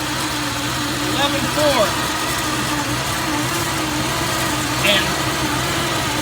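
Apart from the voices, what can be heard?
1988 Chevrolet Corvette engine idling after restart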